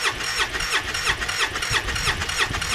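A 2005 Polaris Ranger XP 700 engine cranking with wide-open throttle, giving a fast, rhythmic starter churn that pulses steadily without catching, loud and close.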